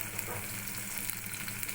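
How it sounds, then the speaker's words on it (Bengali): Chopped garlic and onion with dried red chilies fry in hot oil, a faint, continuous crackling sizzle with light stirring ticks. "এগুলো একটু ভাজা ভাজা হলে পেঁয়াজ দিয়ে দিলাম"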